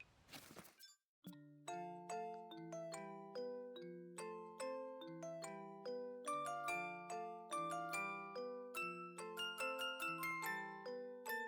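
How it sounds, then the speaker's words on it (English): Song of Storms from Ocarina of Time playing in Pikmin 4 as a music-box melody of bright plucked notes in a lilting repeating rhythm, clear and alone after a brief noisy burst. "that's the Song of Storms from Ocarina of Time"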